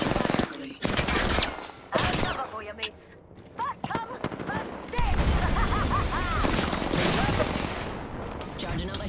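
Apex Legends gunfire rings out in loud, repeated bursts and single cracks, the shots close and punchy, while players talk over the shooting.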